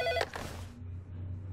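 A telephone rings in the video game Heavy Rain. A single short, bright electronic ring sounds, then dies away, leaving a low, quiet ambient hum underneath.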